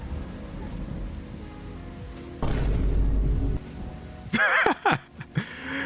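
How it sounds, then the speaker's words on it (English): Steady rainfall in the survival game Once Human, a broad hiss that swells heavier for a second, followed by a few short voiced sounds near the end. "It's raining, you know."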